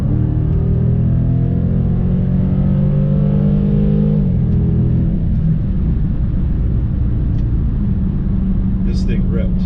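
A 2022 Dodge Charger Scat Pack Widebody engine rumbles and revs loudly up close, its deep droning pitch climbing and shifting, with a voice speaking over it.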